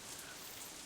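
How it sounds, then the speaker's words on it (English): Steady rain hisses as an even, constant wash in a visual-novel scene, with no thunder and no voices. "Instead, the rain seems to increase."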